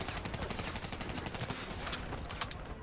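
Rapid gunfire from the Call of Duty Black Ops 3 campaign, a dense, continuous burst of fast shots filling the whole stretch at steady loudness with no clear talk over it.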